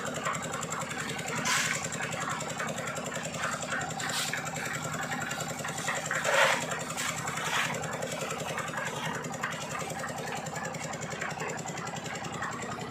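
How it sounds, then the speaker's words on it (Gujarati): A concrete mixer machine runs steadily at a construction site where ground beams are being filled for a new toilet and bathroom block at a temple, a continuous mechanical drone with brief louder bursts, and no talk over it. "મિક્સર મશીન ચાલુ જ છે."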